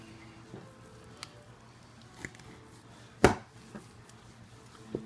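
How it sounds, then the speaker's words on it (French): A knife cuts and breaks through a rabbit carcass during deboning: one sharp, close crack stands out against a quiet background, with a few faint taps scattered around it. "Quand c'est fait, je casse avec mon couteau. Je viens juste couper ici."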